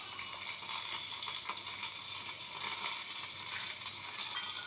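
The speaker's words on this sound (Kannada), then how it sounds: "ಇವನ್ನಿಷ್ಟೇ ಎಣ್ಣೆ ಒಳಗೆ ಸ್ವಲ್ಪ ಫ್ರೈ ಮಾಡ್ಕೊಳತ್ತೀನಿ." Green chillies frying in a little oil in a pan for chutney, a steady close hiss and crackle of sizzling with faint stirring scrapes, continuous throughout and without talk.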